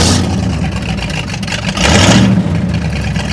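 A cold, not-yet-warmed-up engine of a 1946 Ford 100 custom hot rod truck rumbles loudly up close. A deep idle swells into a brief rev midway, then settles back to a steady throaty rumble.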